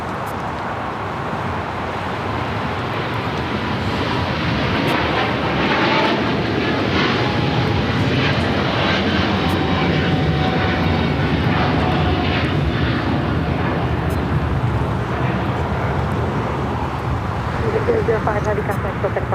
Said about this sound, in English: This is Eva Air Flight 5 taking off to Taipei on a 777-300ER in the Starlights livery.